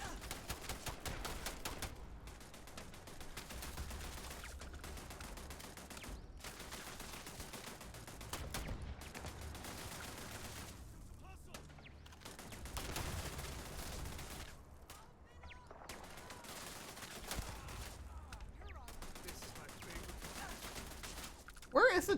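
Sustained turret gunfire in a Starfield space-combat fight, dense rapid bursts running nearly the whole time with brief lulls, loud and continuous, with a voice talking over it.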